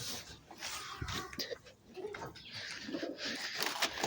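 Pigeons coo softly at a bird swap meet where birds including tipplers were bought, repeated low murmuring calls from several birds amid rustling and faint background voices.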